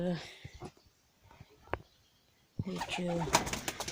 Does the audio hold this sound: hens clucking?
no